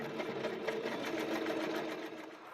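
A sewing machine stitching junk journal pages runs in a fast, even mechanical chatter for a couple of seconds, close and fairly quiet, with no voices.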